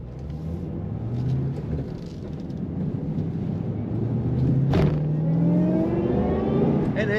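A supercharged 2007 Ford Mustang Shelby GT500 with a six-speed manual rumbles steadily, then rises in pitch as it revs, with a whining supercharger tone heard from inside the car.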